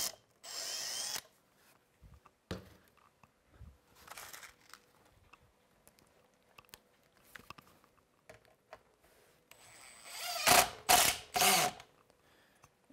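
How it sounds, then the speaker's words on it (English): Short bursts of a power drill whir on and off with pauses between, ending in a louder run of several quick high-pitched spins. "how to drill this one"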